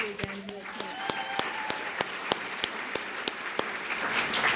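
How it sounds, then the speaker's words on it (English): Scattered audience applause for an event team, with sharp separate claps over a soft background of clapping and voices at low volume, then a murmur of talk. "I want to give a huge round of applause again to the TCOYD team"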